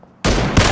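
Gunfire in the video game PUBG Battlegrounds: a sudden loud burst of shots cuts in after a brief quiet moment and continues densely to the end, swelling once more near the close, with no talk over it.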